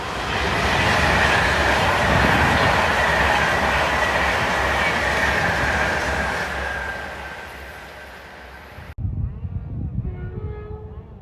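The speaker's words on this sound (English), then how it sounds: "We've got a 390 Pendolino, Avanti West Coast, London Euston." A Class 390 Pendolino, run by Avanti West Coast for London Euston, roars close past at Polesworth with a loud rushing rumble and wheel clatter that slowly fades, then cuts abruptly to quieter rumbling.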